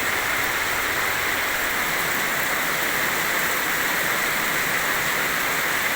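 Heavy rain pours down in a steady, dense hiss that fills the whole stretch without a break, close and loud, with no voices.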